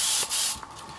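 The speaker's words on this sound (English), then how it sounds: "So I just give that a quick spray." A short hissing burst from an aerosol can of spray adhesive, close by, cut into two quick sprays lasting about a second.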